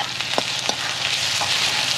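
Tomatoes, onion and capsicum fry in a pan with a steady, close sizzle, broken by a couple of brief clinks or stirring scrapes early on.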